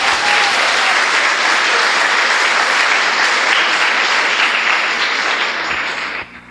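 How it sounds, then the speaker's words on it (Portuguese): A church congregation breaks into loud, sustained applause, a dense wash of many hands clapping steadily for several seconds before cutting off abruptly. "Uma salva de palmas para ela."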